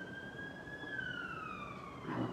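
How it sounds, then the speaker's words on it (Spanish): An ambulance siren passes outside, its wailing tone sliding slowly downward as it goes by, heard at a distance and muffled through walls, with no talking. "¿Escucha la ambulancia o soy yo nada más?"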